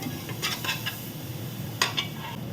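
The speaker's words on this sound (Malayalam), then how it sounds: "രണ്ട് പച്ചമുളക് എടുത്തു എല്ലാം ഒന്ന് വഴറ്റാമേ" A spoon stirs and scrapes ginger garlic paste and green chillies in a pan for a pressure cooker chicken biryani. A few light metallic clinks sound over a faint, steady sizzle.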